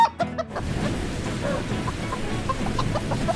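Animated chickens, stolen from a farm and painted, cluck in short bursts at the start and scattered later over a soft, steady background wash that resembles rain.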